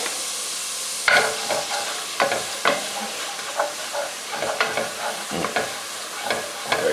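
A spoon stirs a chicken meatball base for Thai soup, seasoned with salt and pepper, in a pot: close, irregular scraping strokes and soft clinks over a low, steady sizzle, with no talking.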